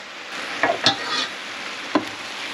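Soy bean and rice noodles with vegetables sautéing in a covered pan over low heat, giving a steady close sizzle broken by a few sharp stirring scrapes and clinks, with no voices.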